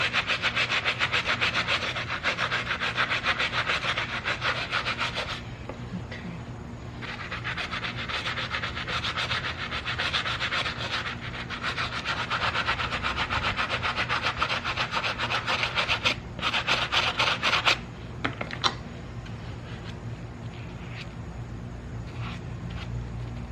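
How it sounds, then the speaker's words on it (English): A cheer uniform's fabric scrubbed by hand with soap, giving close, steady rubbing strokes that run continuously with a few brief pauses and no talking. "Just scrub it as best as you can."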